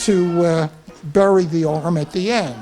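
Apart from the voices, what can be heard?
house cat meowing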